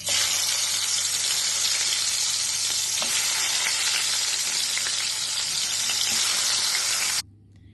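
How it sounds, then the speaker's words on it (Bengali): Koi fish frying in hot oil for a cabbage and fish curry gives a loud, steady, close sizzle with crackling pops throughout, cutting off abruptly near the end. "এবার তাহলে মাছটা ভাজা শুরু করা যাক চলো"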